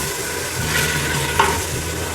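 Halved medium-cut potatoes sizzle steadily in hot oil with spices in a pan, a constant frying hiss broken by a single soft stirring scrape.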